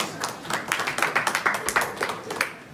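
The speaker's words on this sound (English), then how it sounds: "give yourselves a round of applause" Audience at an agile workshop giving themselves a round of applause, a short burst of scattered clapping from a small group, uneven and fairly close, that swells and then fades out within about three seconds.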